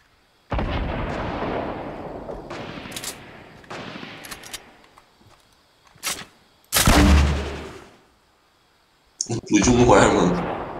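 Gunfire in Fortnite, bursts of shots and impacts striking a wall, loud and close, coming in several separate volleys with short gaps between them.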